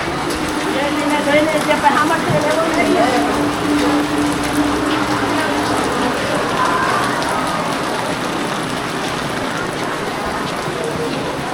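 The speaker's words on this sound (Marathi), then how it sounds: "आज पण पाऊस आहे" Steady rain hisses and patters throughout, with a crowd of people queuing at Omkareshwar temple talking underneath it.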